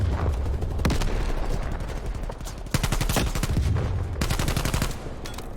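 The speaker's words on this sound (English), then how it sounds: "Incoming artillery." Rapid bursts of gunfire and explosions during an incoming artillery strike in Call of Duty: Cold War, dense loud volleys with short pauses between barrages.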